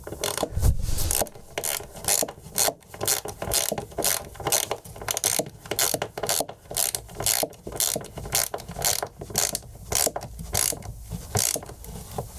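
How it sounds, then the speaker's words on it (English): A power driver whirs in short repeated bursts, driving longer screws up through the underside of a table saw stand with a steady rhythmic on-off pattern, close and fairly loud. "So now I can get them screwed in from the underside."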